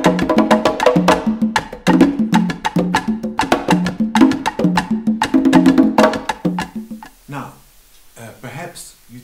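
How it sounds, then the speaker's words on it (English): Colombian rumba percussion ensemble of clave, kata, tumba, conga and quinto soloing, playing dense, rapid interlocking strikes in a steady driving rhythm, loud and close, before the hits thin out and stop near the end. "I play the clave, I play kata, the tumba, conga, quinto solo."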